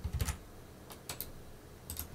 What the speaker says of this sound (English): So go back to the terminal and execute this command.